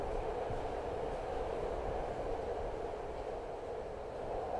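A video game train rumbles steadily along looping tracks in Project Sekai, a continuous low roar with faint rhythmic clatter and no pauses.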